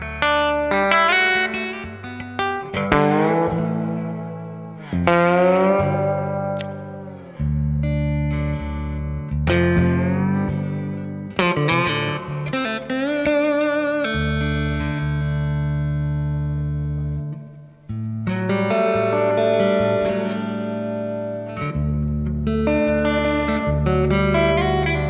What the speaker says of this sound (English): So let's max the reverb out.